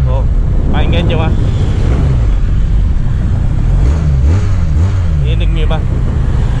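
Exhaust note of a QJMOTOR SRK 400 twin-cylinder motorcycle with a 270-degree crank and aftermarket muffler, a loud, deep, uneven burble with rising and falling revs close by, heard alone throughout.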